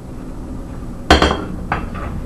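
Boiled potatoes mashed with a potato smasher in a kitchen, one sharp metallic knock against the bowl followed by a couple of fainter clinks and scraping, no talking.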